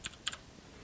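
Two quick, faint bursts of keystrokes on a computer keyboard, a couple of soft clicks each, in an otherwise quiet room.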